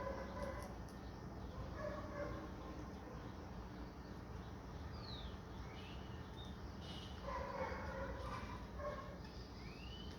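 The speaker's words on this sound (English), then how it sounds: "The neighbors just got home and their dog is all excited about it." A neighbors' dog barking and yipping excitedly at a distance, intermittent bursts over a steady background hum, with birds chirping faintly.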